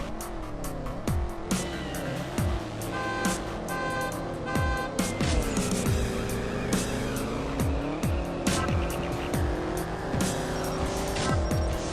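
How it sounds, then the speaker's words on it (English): A Camaro and a Mustang GT race each other in the CSR Racing drag race video game, with repeated engine revs climbing through gear shifts, tire squeal and loud, continuous racing sounds. "We get a classic Camaro versus Mustang battle."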